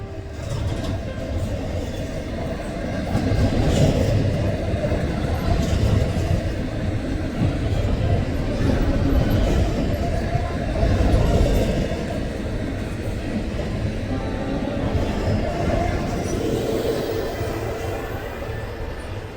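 Freight train leaving the east rail yard at Norris in Birmingham, a steady heavy rumble of rolling cars and engine noise that holds throughout, fairly close and continuous.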